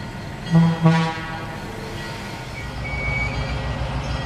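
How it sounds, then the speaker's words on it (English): A train heads north to Willow, sounding two short horn toots close by and then settling into a low, steady rumble of rolling cars. "Taking the train back north to Willow"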